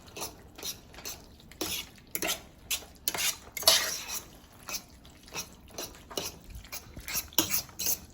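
Red and green peppers, onions and garlic tossed around in a skillet: repeated close scrapes and clinks of utensil on pan in an irregular rhythm, with a light sizzle underneath.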